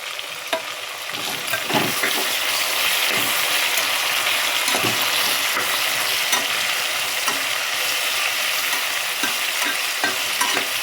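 Vegetable pulao being stirred and fried in a pan, with a steady close sizzle and repeated scraping stirs throughout, no voices.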